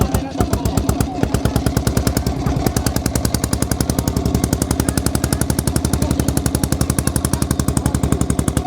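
A boat engine chugs on a river crossing to Mousuni Island, heard from a seat right beside it: a loud, rapid, steady mechanical knocking that pounds on without pause and drowns out everything else.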